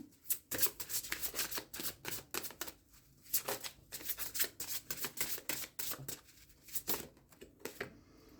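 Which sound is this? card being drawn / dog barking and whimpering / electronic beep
card being drawn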